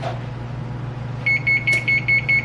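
A kitchen oven beeps to signal it has finished preheating, giving a series of about eight short, evenly spaced electronic beeps over a low steady hum.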